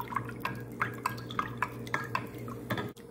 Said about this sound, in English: I'm gonna stir this up again.